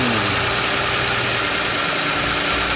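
A 2008 Toyota Sienna engine fitted with a new alternator and belt idles steadily up close, a continuous low hum and whir with no talking.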